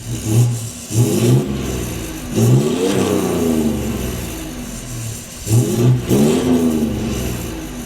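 A Ford F-150 3.0 Powerstroke diesel pickup engine revs up in several deep, throaty bursts, settling back between pulls, its exhaust rumble muffled by the muffler but loud and close.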